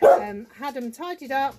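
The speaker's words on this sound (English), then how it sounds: "Whoops, that is my dog now kicking off." A dog barks a few times in the background of an indoor room, its yaps mixed under a woman's continuous chatting.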